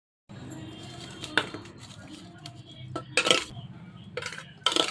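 Rice being mixed with drumstick thokku in a dish for a school lunch box, with a steady spoon-and-vessel scraping bed and sharper metallic clinks of cutlery against the container.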